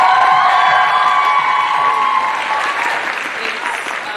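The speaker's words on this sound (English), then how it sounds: "let's give you a bigger round of applause" A school audience at a St. Francis Xavier performance gives a student director a loud round of applause with a few cheers, sustained then slowly fading.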